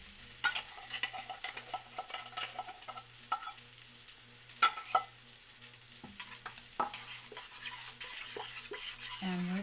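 Meatballs frying in a pan on a stovetop burner, a steady sizzle broken by scattered stirring clatter and utensil knocks, with a low appliance hum underneath and no talking.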